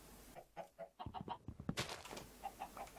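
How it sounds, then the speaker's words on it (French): Chickens in the video game Minecraft cluck in a quick run of short, choppy calls, several birds overlapping at close range with no talk. "Je tue encore quelques poulets"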